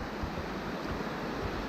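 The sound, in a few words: fast-moving river water, Nymboida River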